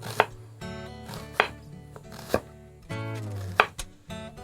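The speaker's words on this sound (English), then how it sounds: "We're going to cut these onions pretty thin." Knife chopping onions thinly on a cutting board for stuffed bell peppers: several sharp, separate blade strikes at an uneven pace, close and clear, with soft rustle between cuts and no talk.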